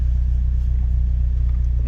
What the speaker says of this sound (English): one thing that I do notice is the idle is a lot smoother